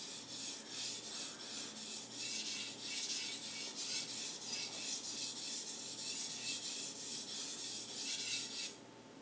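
A Takeda gyuto kitchen knife is ground on a whetstone in a quiet rhythmic series of close, gritty strokes, each rasping pass evenly spaced before stopping near the end.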